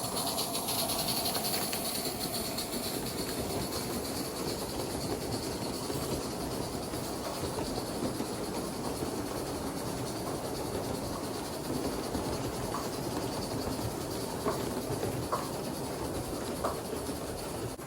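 Live steam model locomotive running on a model railway layout, a continuous close hiss and roar of steam with faint rolling rumble, steady throughout with no talk.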